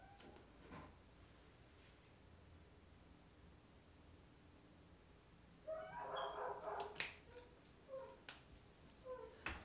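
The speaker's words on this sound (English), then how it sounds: "Don't mind the dog." A dog barks in the background: a few short, sharp barks in the second half, moderately close, with a quiet room and no talk.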